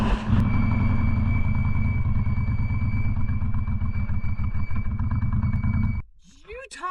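Motorcycle riding on a road trip through Utah toward Moab at nightfall: a loud, steady engine drone with wind rush for about six seconds, then dropping away to a quieter stretch at the end.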